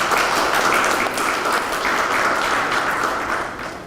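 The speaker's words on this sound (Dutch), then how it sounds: "Mag ik een applaus voor deze eerste ondertekening." An audience claps for the first signing at a formal ceremony in Suriname, a dense, continuous round of applause at steady strength that begins to fade slightly near the end.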